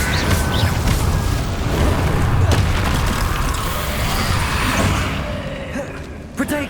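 The Incendio fire spell in Hogwarts Legacy bursts out as a loud, dense whoosh with rumbling booms and crackles, thick in the low end and fading slightly toward the end, with in-game combat clatter mixed in.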